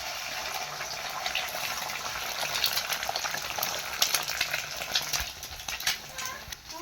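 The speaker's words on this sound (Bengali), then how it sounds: "এবার আমি ডিমটা ফাটিয়ে দিয়ে দিব।" An egg sizzles in a pan of onions fried until reddened, a steady crackling hiss with small pops that grows a little busier toward the end, no talking.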